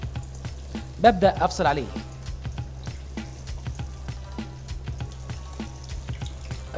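Potato balls sizzle and fry in hot oil at close range, with a brief louder bubbling burst early on and a soft steady crackle under someone talking.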